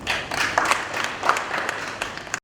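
Audience applause at the official launch of regulation tools for the rubber and oil palm sectors, a dense patter of many hands clapping fairly close, steady across the moment and stopping abruptly at the end.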